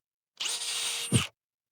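Hilti power drill boring into wood, one short high whine that stops abruptly with a thump when the bit snags and the drill cuts out, close and clear.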